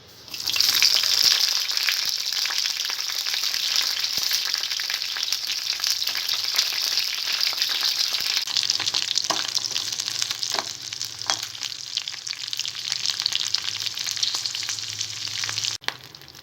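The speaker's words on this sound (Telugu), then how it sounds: "ఆయిల్ వేడైన తర్వాత పచ్చిమిరపకాయల్ని ఫ్రై చేసుకోవాలి." Green chillies fry in hot oil in a pan for a mint and onion chutney, a loud, continuous close-up sizzle with occasional stirring scrapes, ending with a sharp knock.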